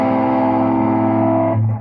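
One sustained, gritty overdriven electric guitar chord through a Roland Cube 80X tweed amp model rings out loud and thick, fading slightly before a lower note briefly takes over at the end.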